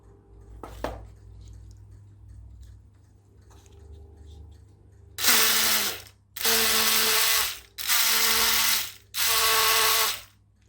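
Brushless motor of a small 3D printed model boat, run off a 2S battery, whirs loudly in four sustained bursts with short gaps, after a quiet stretch of faint background clicks.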